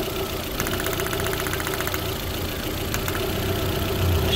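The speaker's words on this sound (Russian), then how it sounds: "работает мотор уже" A car engine running after repairs, a steady idle with a rhythmic ticking, knocking pattern over a low hum, close and alone.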